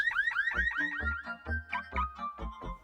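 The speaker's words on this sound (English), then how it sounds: "When the car alarm goes off, just run away." A loud car alarm cycles through rapid warbling, siren-like sweeps in a repeating electronic pattern, close and continuous.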